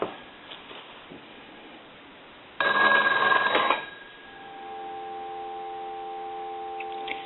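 A Stromberg Carlson hotel telephone bell rings in a brief metallic burst of about a second, followed by a steady electronic tone humming underneath.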